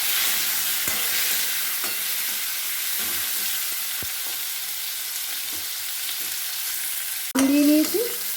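Mango pieces sizzle steadily in hot oil in a pan while being stirred for a chutney, with occasional scraping clicks and a sharper burst of sizzle and stirring near the end.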